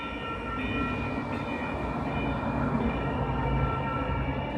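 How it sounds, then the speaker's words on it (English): A light rail train passes on the opposite track, a steady, broad rumble of wheels and motors that stays fairly even and close, with no talk over it. "Well, there's the train going the other direction."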